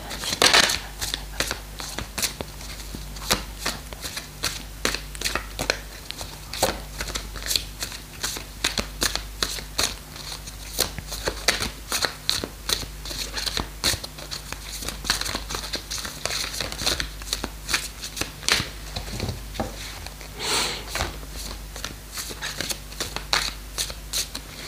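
Oracle cards shuffled continuously by hand, a close steady run of crisp papery slaps and riffles with a low background hum and no talking.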